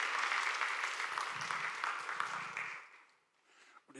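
A church congregation applauds warmly for about three seconds, a dense patter of many hands that then tapers off into near silence.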